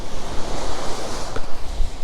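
Strong wind gusts roar across the microphone at a shoreline fishing spot, a loud, continuous buffeting rush with surf-like swells of noise.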